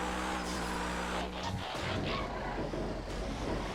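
A Benson box truck in a GTA race drones along at speed, with steady low engine and road rumble and a brief dip midway, heard alone without talk.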